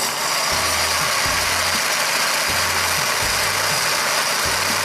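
A toy blender appliance whirs steadily after its big red button is pressed, giving a constant close motor hum with a faint rhythmic low thumping throughout and no talk.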